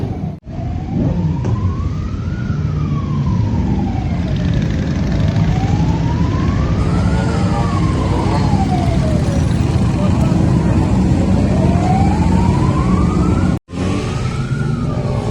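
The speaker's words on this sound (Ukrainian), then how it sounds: "Постійно ви чуєте оці от такі сирени." Police and rescue service sirens wail, sweeping up and down steadily over constant traffic rumble during a motorcycle charity ride escort in Boryspil, loud and continuous, with a brief dropout near the end.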